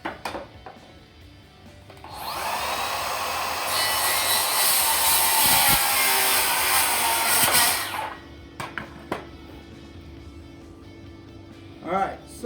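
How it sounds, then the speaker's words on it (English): A Makita power saw cuts through wood for about six seconds, a loud continuous rasping whine that starts and stops abruptly, followed by quieter knocks and handling sounds. "I'm gonna go ahead and cut with the Makita"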